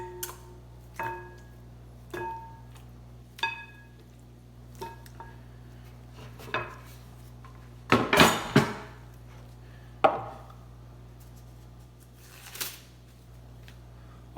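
Raw chicken pieces dropped one by one into a bowl for marinating, a series of soft, close wet plops and light clinks spaced a second or two apart, with a brief louder clatter midway.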